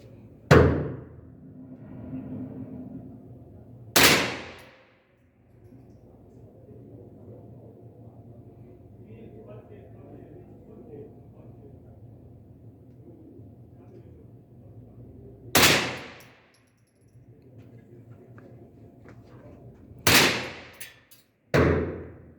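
Five sharp rifle cracks from a Delta .22LR, spaced irregularly: two close together at the start, then a long pause, then three more, each loud and brief with a fast decay over quiet outdoor background.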